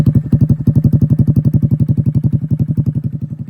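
A Honda Grom motorcycle idles in neutral close by, its exhaust giving off a loud, rapid, even blub-blub pulse that holds steady throughout, with no voices.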